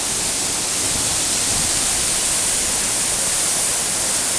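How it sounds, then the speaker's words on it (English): Eas Mor waterfall in spate at High Kildonan roars as a dense, constant broadband rush of falling water, loud and close with no break or variation across the few seconds. "And here's the waterfall."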